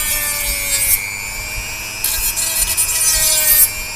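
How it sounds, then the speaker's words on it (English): Someone hand-sands a wooden chopping-board guitar body, making close, steady rasping strokes in a rhythmic back-and-forth with short pauses between passes and no speech. "We're going to sand it up a little bit. I'm going to get this nice and smooth."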